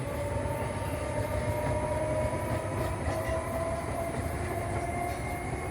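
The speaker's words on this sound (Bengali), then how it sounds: "তালপুর স্টেশন থেকে ট্রেনটা যাচ্ছে এই মাত্র হাওড়ার দিকে।" A train pulls away from Talpur, a small village station, heading toward Howrah, its steady rumble and rolling wheel noise filling the air loudly and continuously with no voices.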